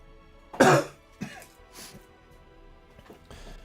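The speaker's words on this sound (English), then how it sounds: "I still have my cough." A person with a lingering cough coughs sharply once, then gives a couple of smaller coughs and throat clears, close and loud, in an otherwise quiet room.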